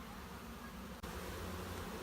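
Honey bees buzz in a dense, steady hum around an open hive during an inspection, a continuous close swarm drone with a brief dip midway and no talk.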